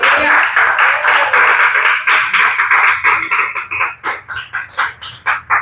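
A church congregation claps in praise during a Spanish-language service, loud and close. The dense applause thins into slower, evenly spaced individual claps near the end.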